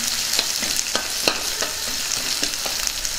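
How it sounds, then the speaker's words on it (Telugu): Green chillies and onion pieces frying in a pan for a brinjal and peas curry, a steady soft sizzle broken by repeated scraping strokes as the mix is stirred, with no talk. "ఇప్పుడు పచ్చిమిర్చి ముక్కలు వేసుకుందాం. అలాగే ఉల్లిపాయ ముక్కలు కూడా వేసుకుందాం."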